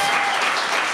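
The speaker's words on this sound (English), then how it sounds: "Big round of applause." A live audience at a WeWork event applauds, a brief dense wash of steady clapping at even loudness throughout.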